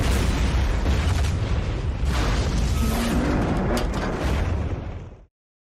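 A World War II satchel charge detonating, a loud deep blast that roars and rumbles continuously for about five seconds before cutting off abruptly into silence.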